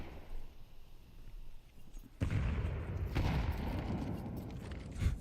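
A thumping grenade blast in an online Counter-Strike match, followed by a sustained burst of rapid gunfire and rumbling booms that stays loud to the end.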